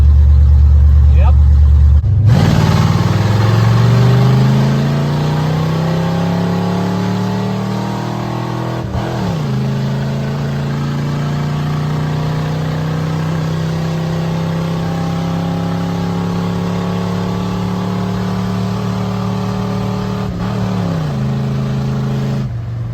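A 1980 Ford F150 with a 351W V8 and open headers idles loudly and then revs, its pitch rising and settling into a sustained, rough, throaty drone with a couple of brief dips, heard up close with no talk.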